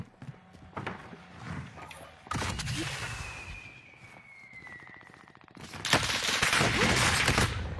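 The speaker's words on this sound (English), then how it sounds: "Nobody called out that airstrike!" Explosions from an airstrike in a battle royale video game, arriving as loud broadband bursts around the third second and again near the end, with a descending whistle and rumbling between blasts.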